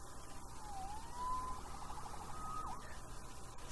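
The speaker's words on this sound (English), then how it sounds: "Saved by the siren." A police siren in the Spider-Man video game, faint wailing tones sweeping in the distance over a low ambient background.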